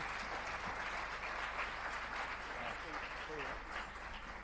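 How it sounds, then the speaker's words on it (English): Applause from a forum audience at a regional gastronomy tourism event in Africa, a faint, distant wash of many hands clapping, steady throughout with voices talking over it. "Just some more applause, please, for the chef."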